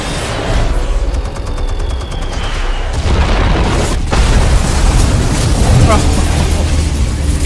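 Drone-fired explosives detonating in a Batman video game: a loud, dense run of booms and crackling blasts that rolls on without a break, with a voice talking over the din.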